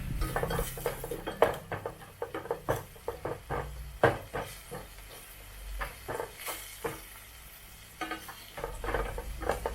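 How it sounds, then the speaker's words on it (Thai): Metal utensil scraping and clattering in a frying pan while scrambling eggs, brisk irregular stirring strokes with a faint sizzle underneath, close by. "จะใช้วิธีการยีไข่ในกระทะนะคะเพื่อจะให้สีของไข่สวย"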